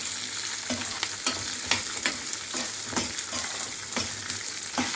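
Garlic and small shallots sizzle in a pan for a vallarai keerai chutney, a dense close crackle with regular stirring clicks and scrapes about twice a second, no talking.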